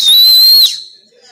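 A single person's loud, sharp whistle, steady and slightly rising, held for over half a second, then cut off, used to call everyone together; close and clear with no talking.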